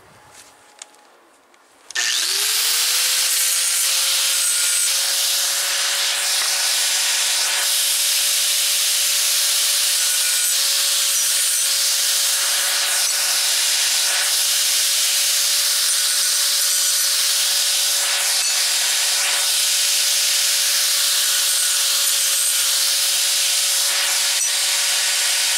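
Metal file rubbing burrs off a saddle rack part held in a vise, a loud continuous rasping hiss that starts abruptly after a brief quiet moment and carries on with a steady tone beneath it.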